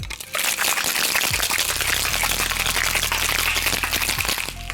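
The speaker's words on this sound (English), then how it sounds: "a 3 to 5 second whip shake." Crushed ice rattling hard inside a cocktail shaker during a quick whip shake for a Planter's Punch, a dense, loud, continuous churning crunch lasting a few seconds.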